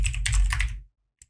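Keystrokes on a computer keyboard during a programming lesson, a quick cluster of clicks followed by silence and two faint isolated taps near the end.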